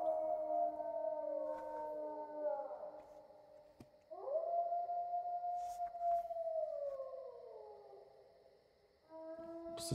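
Wolves in the survival video game DayZ howl in long, wavering, overlapping tones that rise and slowly fall, several voices layered over about ten seconds with a brief dip midway before another swell.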